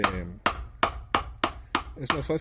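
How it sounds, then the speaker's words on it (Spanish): A hammer strikes brass wire pieces being shaped into a four-leaf clover pendant, giving seven sharp metallic blows at a steady pace, with a voice speaking briefly at the start and the end. "En este caso vamos a martillar un poquito más fuerte para que se vean más anchas nuestras figuras"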